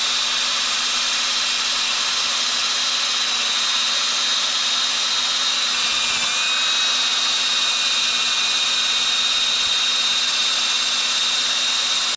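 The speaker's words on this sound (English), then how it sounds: "back again with the trusty Ryobi cordless drill and a wire brush" A Ryobi cordless drill spinning a wire brush against a Toyota RK110 Stout 5R engine water housing, a loud continuous whirring scrub with a steady motor whine and a brief dip midway, no talk.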